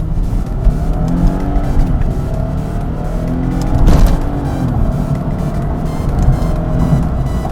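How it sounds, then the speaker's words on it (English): A 2006 Lexus IS350 accelerating hard up a freeway on-ramp, its engine roaring loud and close with rising revs and a brief tire squeal near the middle. "I have to accelerate to freeway speeds almost instantly"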